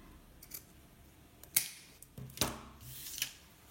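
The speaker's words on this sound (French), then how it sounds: "je vais couper tout ce qui dépasse" Scissors snip the zipper ends on a sewn fabric pouch, a few sharp close cuts spaced unevenly, each a crisp click with a brief slide, quiet in between.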